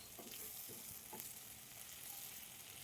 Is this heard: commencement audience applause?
no